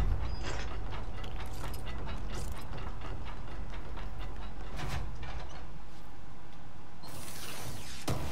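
Elevator machinery in the video game Control grinds and clanks loudly and close, with ratcheting gear clicks and creaking mechanical motion running continuously, then a burst of hissing near the end.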